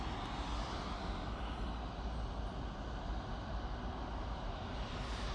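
Jet airliner engine roaring steadily at Manchester Airport during plane spotting, a loud, sustained broadband rumble with a hissing upper layer that holds through the whole stretch without pause.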